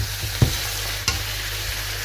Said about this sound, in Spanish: Vamos a mezclar, lo vamos a cocinar un par de minutos.